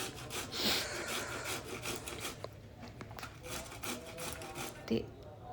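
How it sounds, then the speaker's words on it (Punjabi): Cauliflower being grated for paratha stuffing, a continuous close rasping scrape with rhythmic strokes against the grater and a brief knock near the end, with no talk. "ਹੁਣ ਆਪਾਂ ਇਹਨੂੰ ਕੱਦੂਕਸ਼ ਕਰ ਲਈਏ ਗੋਭੀ ਨੂੰ ਸਾਰੇ ਨੂੰ"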